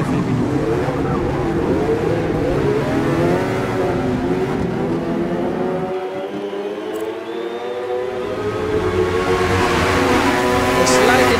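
A Ferrari race car engine in the Forza racing game at Spa-Francorchamps, seen from the cockpit, drones and revs continuously, its pitch climbing and falling through gear changes with a brief lull midway.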